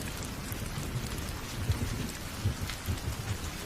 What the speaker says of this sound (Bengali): বড় বড় ফোঁটায় মুষলধারে বৃষ্টি হচ্ছে।